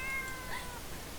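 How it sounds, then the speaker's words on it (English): A cat in the Corpse Party video game gives one short, clear meow over a steady background hum. "Such a pretty kitty."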